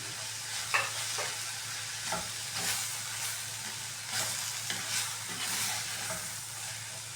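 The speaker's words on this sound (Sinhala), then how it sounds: "දැන් අපි මේක හොඳට කලවම් කරගමු" Sri Lankan seeni sambola mixture with tamarind and salt being stirred in a pan, a soft steady sizzle under repeated scraping strokes of a spoon, fairly quiet and close with no voices.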